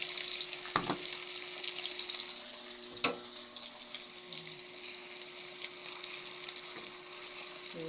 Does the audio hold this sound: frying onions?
yes